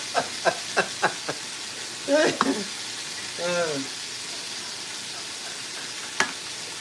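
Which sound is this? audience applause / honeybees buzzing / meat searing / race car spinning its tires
meat searing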